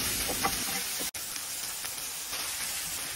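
Tomatoes and fried tuna stirred together in a frying pan while cooking coconut-milk tuna, giving a steady, close sizzle and hiss with soft scraping, one brief dropout partway through.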